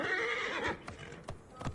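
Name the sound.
horse neighing in Assassin's Creed Origins video game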